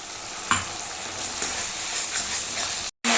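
Ginger and garlic paste sizzles in a pan with onion and tomato masala, a steady close frying hiss with a stir or two and a brief dropout near the end.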